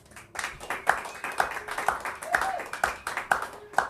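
At a comedy show, an audience applauds in a steady, rhythmic patter of claps, fairly close, with voices murmuring underneath.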